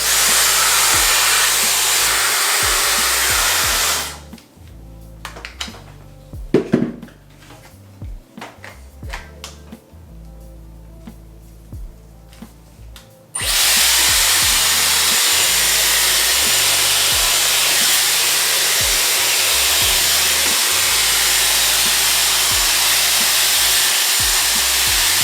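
A Dyson Airwrap blowing out curly hair gives a loud, steady whooshing airflow that cuts off for several seconds mid-clip with small clicks and handling noises, then resumes at full strength.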